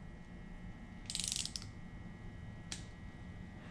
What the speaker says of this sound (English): So I went ahead and grabbed my inch pounds torque wrench.